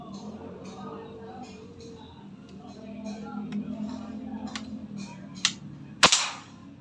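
Airgun shots during an accuracy test: two sharp cracks, a smaller one then a louder one near the end, over steady low background rumble with faint ticking.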